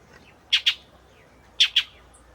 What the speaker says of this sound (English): Yes, bird friend?